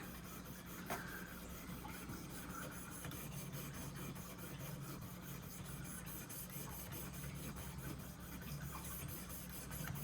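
A traditional pocket knife is drawn against the abrasive of a Worksharp Precision Pro sharpener, producing a steady close rasping rub that repeats in quick even strokes throughout, fairly faint overall.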